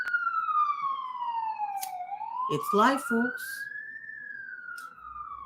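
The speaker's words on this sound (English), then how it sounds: "That's a fire truck." A fire truck siren wails as it passes near a small roundabout, its rising and falling tone loud and clear, with a person speaking briefly over it.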